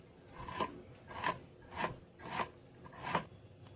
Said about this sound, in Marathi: आज मी बघा कारल्याची कापं करते। अशी गोल कापायची आहेत।